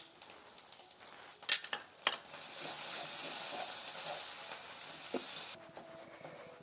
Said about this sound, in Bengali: নারকেল বাটা দেখুন সুন্দর করে একটু ভেজে নিয়েছে